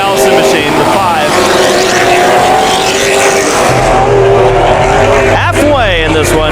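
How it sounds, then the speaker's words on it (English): Late model race cars roar around Havasu 95 Speedway during a 100-lap feature, a loud continuous engine drone with passing cars rising and falling, under an announcer's commentary. "He's just trying to get around that Mark Allison machine"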